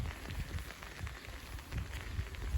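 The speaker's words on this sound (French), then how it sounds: "Donc, une belle pluie qui donne un ressenti hivernal." A cold spring rain shower falls outdoors at around 1500 metres, a soft, steady patter and hiss with low rumbling bumps, faint and continuous with no voices.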